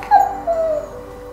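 A husky whimpers in two short, high, wavering whines, close and fairly loud, with no talk over it.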